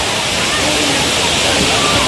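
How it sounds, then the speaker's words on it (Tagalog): Tinago Falls waterfall rushing: a loud, dense, steady roar of falling water filling the scene without pause, close and continuous. "makaka-relax kayo dito tinago falls yan oh"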